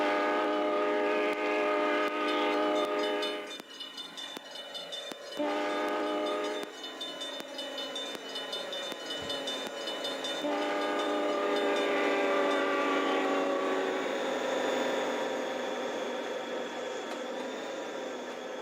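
Trains rolling past a level crossing in the railway simulator Trainz 2019, with sustained horn blasts and harmonic whistle tones over a continuous rumble and faint clickety-clack of wheels, loud and close throughout, no talking.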